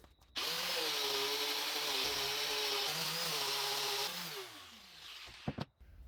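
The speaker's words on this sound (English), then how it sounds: "time to sand it down." A power sander works the wood surface of an amp cabinet close up, starting abruptly and holding a loud, steady whine that wavers slightly in pitch before winding down, followed by a few brief knocks.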